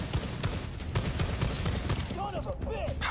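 Rapid bursts of video-game gunfire from an assault weapon in a Call of Duty Warzone Resurgence match, dense and loud, with game sounds and brief effects layered over the shots.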